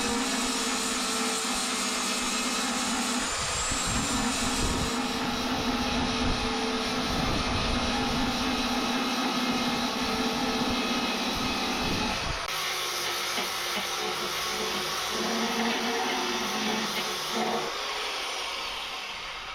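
Power grinder working down a repaired Ford Fiesta Mk2 car door before primer, a loud continuous whine with rough shifts in pitch and load, heard close up outdoors with steady wind noise and no talking.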